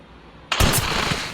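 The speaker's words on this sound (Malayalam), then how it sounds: "വെടി വെച്ചു" A single loud gunshot in the Granny 3 video game, a sudden close blast that rings into a sustained rumbling tail after a quiet moment.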